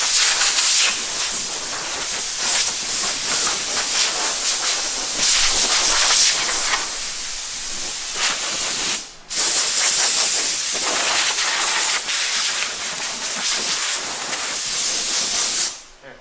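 Compressed air blowing dust off a freshly sanded carbon fiber hood for an AP1 S2000, a loud broadband hiss in long sustained bursts with a brief break near the middle, close to the nozzle.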